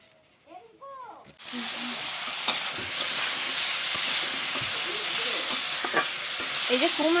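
Pumpkin pieces with salt, sugar and turmeric are stirred in a hot pan. A loud hissing sizzle starts abruptly and holds steady, with scattered scraping stirs, and a voice is briefly heard at the start and end.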